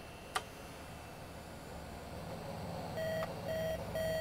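Video game sound from an AdLib-compatible Microchannel sound card, very quiet under a steady hiss: a click, then a run of short repeating electronic beeps at an even pace.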